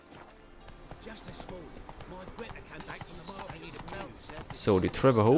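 A horse's hooves clip-clop in a steady trotting rhythm during a race in the video game The Witcher 3: Wild Hunt, with someone talking over it in German throughout.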